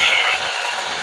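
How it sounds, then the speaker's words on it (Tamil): Fenugreek seeds frying in hot oil, a steady bright hiss and sizzle that starts loud and settles slightly, close up and continuous with no talk. "இங்கால எண்ணெய் சூடாயிட்டு வெந்தயம் கொஞ்சம் சேர்க்கிறேன், பொரியட்டும்."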